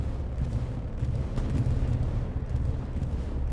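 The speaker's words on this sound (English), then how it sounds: "We hear a bombing run coming" A bombing run in Hell Let Loose on the Utah Beach map, heard as a continuous low rumble of explosions that rolls on steadily at moderate volume with no talk.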